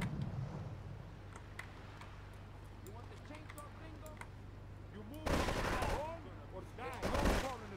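Bursts of video game gunfire aimed at the player in GTA 3 Definitive Edition: a steady hum runs under scattered shots, then two loud, dense volleys erupt near the end, with someone talking throughout.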